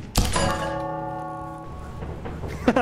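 A single bell in the video game Lethal Company strikes after a dull thunk, its clear tone ringing out and slowly decaying over about a second, followed by a brief knock and a short voice.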